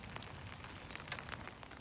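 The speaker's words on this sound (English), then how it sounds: "when the rain is hitting them, it's just it's the softest little pitter-patter" Soft rain patters steadily outside a window under overcast skies, a faint, even wash of light droplet ticks with no voices.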